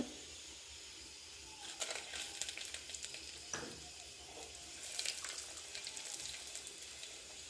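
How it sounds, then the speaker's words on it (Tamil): Dried red chillies fry in oil for a radish chutney, making a faint, continuous sizzle close by, with brief stirring scrapes and crackles and no talking. "காரத்துக்கு தகுந்த மாதிரி வரமிளகாய் போட்டு இதோட வந்து நம்ம கருக்கி விட்டுக்கலாம்"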